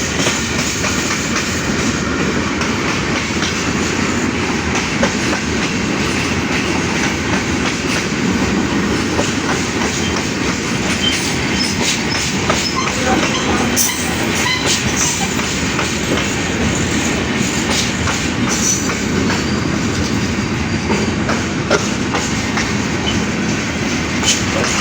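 Long down freight train of empty ZBKH coal wagons hauled by a GU40 locomotive rolls steadily past close by, with continuous loud rumble and rhythmic clickety-clack of wheels over rail joints throughout, no voices.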